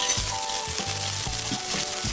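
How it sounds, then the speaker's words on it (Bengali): Garlic, onion and green chili sizzle steadily while frying in a pan, a close, continuous hiss with the rhythmic scrape of stirring and a low hum underneath, no voices. "এখন আমি এটা ভেজে নেব।"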